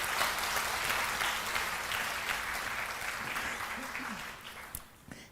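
Audience applause at a church revival meeting, a steady wash of clapping from a large seated congregation that runs unbroken and gradually thins toward the end, with faint voices murmuring underneath.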